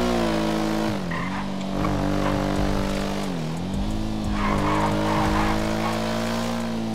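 Car engine revving hard and accelerating with tires skidding and squealing in the video game GTA RP, loud and close, the engine pitch dipping and climbing again across several seconds with no voices.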